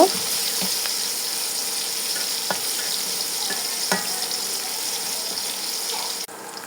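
Hilsa fish head frying in a pan, a steady sizzle with occasional sharp pops and utensil taps, close and continuous before a brief clatter near the end.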